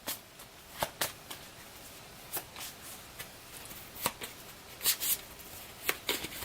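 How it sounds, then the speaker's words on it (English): Playing cards from a discard pile in a Transformers deck-building game are shuffled and tapped, making a string of sharp riffles and snaps at an uneven rhythm, fairly close but quiet. "we're having to shuffle our discard pile"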